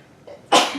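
A single sharp sneeze bursts out suddenly after a brief quiet intake of breath, loud and close on a call about bank identity verification.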